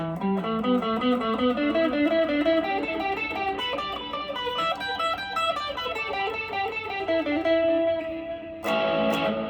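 An electric guitar, neck pickup humbucker and bridge single coil, plays a melodic line of clear, sustained notes with a slightly overdriven tone, ending on a louder strummed chord.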